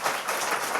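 Audience applause at a live lecture show, a short burst of dense clapping from a crowd, steady and moderately loud with no voices over it.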